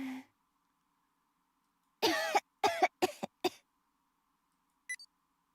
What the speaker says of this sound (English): She programmed the password in with the cough.